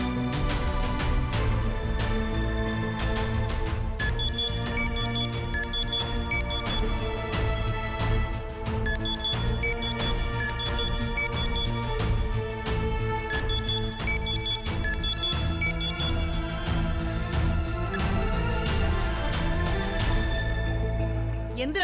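A mobile phone in a Malayalam TV serial plays a loud melodic ringtone whose repeating tune carries on steadily throughout, with no talking over it.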